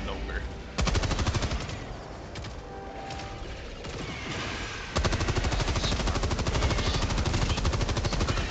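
Rapid automatic gunfire crackles in Helldivers 2, dense bursts of shots rattling continuously with a louder, heavier volley in the second half.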